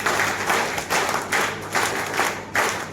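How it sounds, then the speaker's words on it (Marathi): An audience at a Bharatiya Bauddha Mahasabha gathering in Thane district claps in rhythmic, rolling waves of applause, with bursts swelling and easing about every half second, and no speech over it. "एकदा जोरदार टाळ्या"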